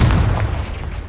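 A Confringo blasting spell from the video game Hogwarts Legacy goes off as a loud, booming burst with a dense low rumble, sustained through the moment without any voice.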